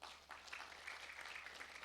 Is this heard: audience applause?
yes